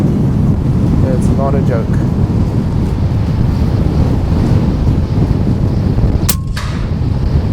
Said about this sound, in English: I hope the mics are holding up in this wind, because it is hectic